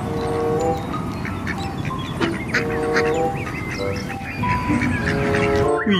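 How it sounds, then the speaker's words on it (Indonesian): Ducks quack in short nasal bursts through a busy, noisy outdoor scene, the calls repeating irregularly close by. "ternyata ini hewan bebek"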